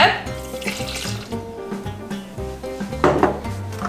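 Water runs and splashes into the bowl of a Monsieur Cuisine Smart kitchen machine over chocolate, sugar and cocoa for homemade wafers, a close, uneven pouring with light knocks and clatter and no clear speech.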